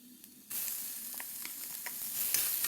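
A finely chopped large onion drops into a hot pan for spicy masala pasta and bursts into a sudden loud sizzle, then keeps frying steadily with light stirring clicks and no speech.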